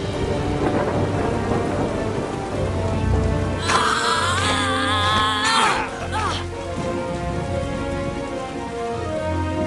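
Heavy rain pours steadily in a thunderstorm while thunder rumbles low and loud throughout, with a brief high-pitched creature cry rising over the storm midway.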